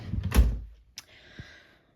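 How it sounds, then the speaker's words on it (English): A drawer on a safety-lock dresser slides open with a short woody thud, then a sharp click and a soft rattling settle, all close and without talking. "So whenever I open like one drawer, other drawers don't open, except on this side."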